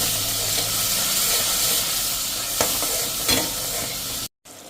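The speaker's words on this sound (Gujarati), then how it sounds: "તો એમાં આપણે જે આ મસાલો પલાળ્યો છે ને બધો એ નાખી દેશું અને એને પણ આપણે સરસ આ રીતે તેલમાં જ કૂક કરી લેશું." Soaked spice masala for chole cooks in hot oil over a slow-to-medium flame with a constant loud sizzle and hiss, broken by a couple of stirring scrapes and a brief dropout near the end.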